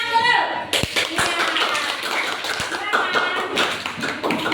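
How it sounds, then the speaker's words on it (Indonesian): Classroom applause after a group presentation, dense steady clapping from many hands right up close, filling the whole stretch with a few louder thumps in it. "Tepuk tangan dulu."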